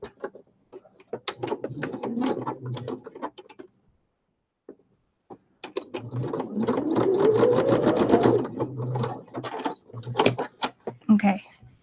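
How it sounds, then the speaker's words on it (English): A sewing machine stitches along the edge of a homemade fabric weight, running in two bursts of steady mechanical whirring with a pause between, mixed with some talking and handling noise. "I'm going to sew that edge up though a little bit."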